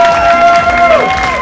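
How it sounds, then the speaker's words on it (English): Applause and cheering from an audience at a junior pageant competition fill the room in a dense, steady wash of clapping, with a sustained tone running through it. "Massive round of applause again for them."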